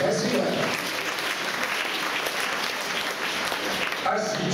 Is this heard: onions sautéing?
no